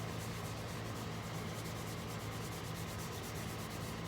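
Abrasive paste is pressed onto a piece of Ipe wood spinning on a lathe, giving a faint, steady rubbing hiss over the low, continuous hum of the machine.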